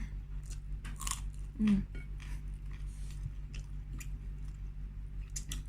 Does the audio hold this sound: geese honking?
no